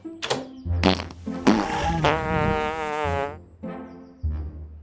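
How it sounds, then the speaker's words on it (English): A loud electronic fart noise, a long buzzy flapping rasp with a wobbling tone, preceded by a few short squeaky blips and followed by brief toy-like bleeps. "It is a fart box."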